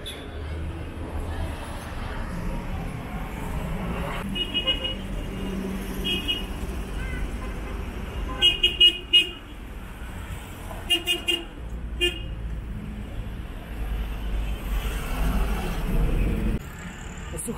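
Dense street traffic full of tuk-tuks in Ica, Peru, with a constant engine rumble and repeated short horn toots in quick bursts, some close and loud, while people talk nearby.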